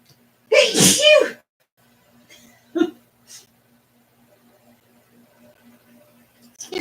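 One loud, close human sneeze bursts out near the start, followed by a few faint breaths and small mouth sounds over a quiet background hum.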